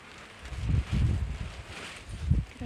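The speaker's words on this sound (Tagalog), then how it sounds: "Grabe yung hangin." Gusty wind buffets the microphone in low rumbling surges, rising and falling over a few seconds, with faint rustling in the background.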